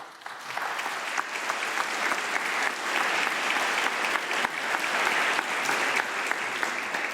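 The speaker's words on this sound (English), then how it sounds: "So a great round of applause for all of you." Steady, sustained applause from an audience, a dense wash of clapping that holds at full strength throughout.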